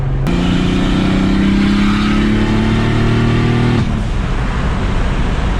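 Turbocharged BMW M50 engine with forged internals pulling a car hard at part throttle, a loud, steady droning roar with rising engine tones that drop abruptly near the end as the revs fall, with no talking.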